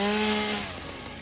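Chainsaw from the video game Satisfactory cutting through wood, a steady harmonic engine whine that drops in pitch and fades partway through the brief burst, heard alone.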